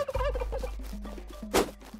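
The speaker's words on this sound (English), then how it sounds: "It's a turkey." A turkey in the video game Tribe Primitive Builder gobbles in a rapid, warbling burst, loud and close, with no talking over it.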